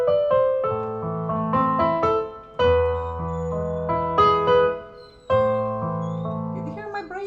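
A melodic instrument phrase played with the wrong fingering, its notes ringing clearly but broken by two noticeable breaks where the sound drops out and restarts.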